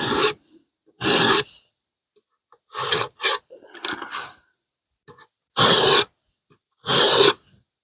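Hand-sharpening a 5160 carbon steel knife blade, heard as separate bursts of harsh, raspy stone-on-steel strokes, loud and close, coming in pairs and short runs with silent gaps between them.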